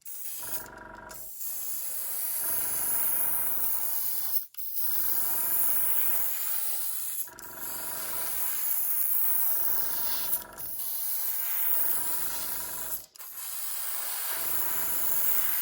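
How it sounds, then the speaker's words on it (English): An airbrush hisses steadily in long sustained bursts while weathering an N gauge model train, broken by brief pauses, close and fairly loud with no talking. "I'm going in with the airbrush"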